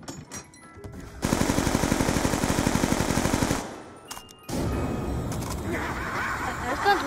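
Rapid automatic gunfire rattles in bursts in Call of Duty zombies on the Buried map, a long continuous volley followed by a second stretch of shooting, with a player talking between and over the shots.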